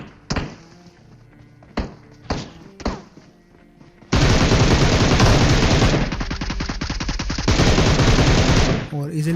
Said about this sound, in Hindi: पीछे एक बॉट फायरिंग करता है